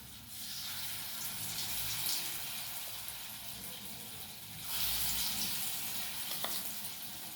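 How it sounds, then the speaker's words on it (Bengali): Spoonfuls of lentil pakora batter go into hot oil in a kadai and fry with a faint, steady sizzle, swelling twice as fresh pieces drop in, with no voices over it. "এবার আমি চামচ দিয়ে ছোট ছোট করে পকোড়ার মতন করে আমি কড়াইতে দিয়ে দেবো"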